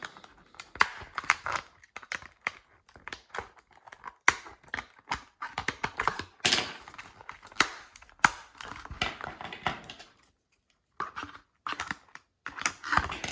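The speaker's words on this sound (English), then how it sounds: "So we got a few things to snip in here." Scissors snipping open the packaging of a 1/64 Case IH 8950 toy tractor: irregular crisp snips, clicks and plastic crinkles, close and quiet, with short pauses between cuts.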